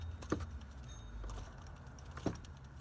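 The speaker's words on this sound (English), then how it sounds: "You hear that clicking?" A worn engine pulley with a little play, spinning freely, gives two faint, sharp clicks about two seconds apart over a low, steady background hum.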